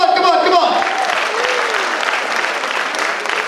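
An audience claps steadily in a big round of applause after a school quiz event, a dense wash of hands with a few cheers and voices mixed in near the start.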